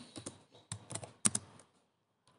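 Computer keyboard keys clacking as code is typed, a few quick bursts of clustered keystrokes close to the mic, then a pause with a last tap at the end.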